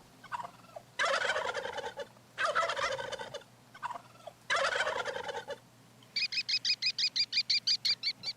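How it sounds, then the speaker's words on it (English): Turkeys gobble in a camp in the Mac video game Beached, in four loud, long bursts separated by short pauses, then a rapid rhythmic run of about a dozen evenly spaced clucks closing it out. "There are so many turkeys in the camp for some reason."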